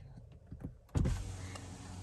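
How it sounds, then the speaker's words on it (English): Power window on a BMW X3 M Competition being lowered, a steady motor whir starting abruptly after a few soft clicks and running continuously, close and clear without talking. "So what I'll do is I'll lower the window"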